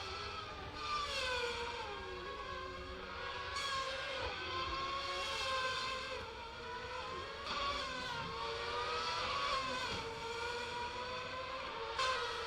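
Race cars pull out of the pit lane onto the circuit, with engines rising and falling in overlapping revving whines, fairly distant and steady throughout.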